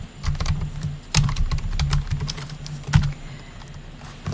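Steady typing on a slipping computer keyboard, a brisk run of close clicking keystrokes with a few heavier taps, no voices.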